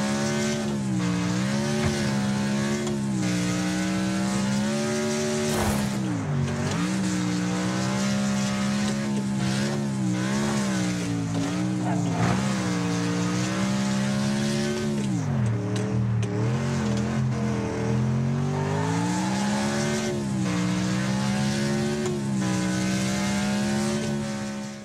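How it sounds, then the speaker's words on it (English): A car engine in a racing video game revs and shifts continuously, its pitch climbing and falling through gear changes with occasional tire squeal, loud and close with no talk. "Man, that car sounds just like a race car."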